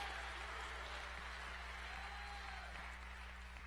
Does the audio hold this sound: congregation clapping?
yes